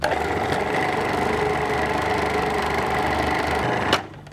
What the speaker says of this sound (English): And then it's just a matter of whizzing in the machine.